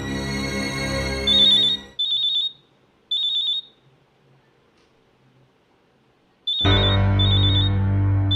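Mobile phone ringing indoors in a family home, a loud repeating electronic ring in short bursts with pauses between them, sounding over background music.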